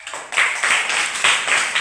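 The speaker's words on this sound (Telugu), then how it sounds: "అబ్బో చప్పట్లు కొట్టేశారు." A small audience breaks into applause, a short burst of close, rhythmic clapping with several evenly spaced swells over under two seconds.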